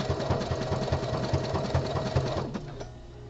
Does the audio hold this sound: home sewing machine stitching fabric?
yes